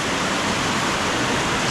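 Clear mountain stream water rushes over slippery rocks on the trail to Love Waterfall in Hoang Lien National Park, Sapa, a close, loud and unbroken broadband roar with no voices.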